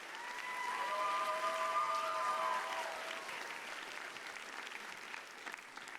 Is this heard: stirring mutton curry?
no